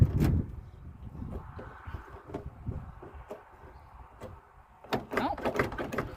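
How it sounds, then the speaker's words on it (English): Close rattling clunks and clicks of someone working the locked door handle of a 1978 Honda Civic, with scattered knocks and a few louder tugs near the end, no talk. "Does the door handle not work?"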